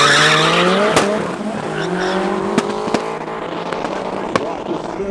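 An all-wheel-drive Mark 1 car on a drag run at an abandoned airstrip, its loud engine rising through the gears with sharp pops and bangs cracking over it, a voice talking in the background.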